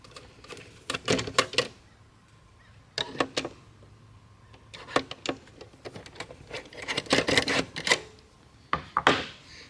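Small screws are worked loose from an Xbox disk drive, making bursts of quiet, close clicking and ratcheting in short clusters separated by pauses.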